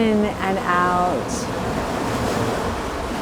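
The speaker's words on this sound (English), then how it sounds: "the rhythmic sound of the waves coming in and out" Ocean waves wash in and out with a broad, steady rushing surf. A voice speaks briefly over the start before the water sound carries on alone.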